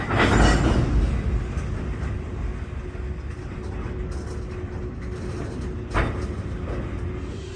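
A BNSF freight train rolls through the Galesburg rail yard, a steady broad rumble of wagons with a sustained wheel tone, a loud clank near the start and another sharp knock near the end, no voices.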